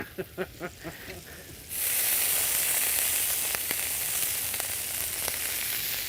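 Shrimp sizzle loudly in a pan with plenty of butter, oil and wine, the frying hiss rising suddenly and holding steady after a few soft knocks, with faint crackles scattered through.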